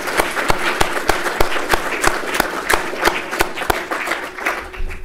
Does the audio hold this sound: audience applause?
yes